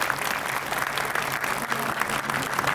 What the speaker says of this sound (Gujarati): જોરદાર તાળી થઈ જાય.